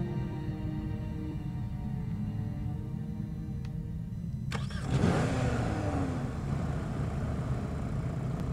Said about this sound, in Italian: Credo che possiamo mettere in moto la macchina.